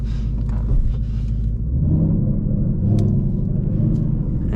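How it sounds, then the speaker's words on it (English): A Ford Mustang fitted with a Borla ATAC exhaust and a Calimer Stage 3 transmission drives along, heard from inside the cabin as a loud, deep, steady engine rumble that builds slightly partway through. "You can hear the car. It's a good sounding car."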